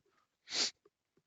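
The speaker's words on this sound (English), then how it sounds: "Excuse me for my sniffles." A single short, breathy sniff or sneeze-like burst of air, close to the mic, followed by a couple of faint small sounds in near silence.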